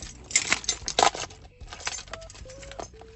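A bunch of keys jingles and clinks close by in a few metallic bursts, with scattered small knocks and brief tonal beeps in between.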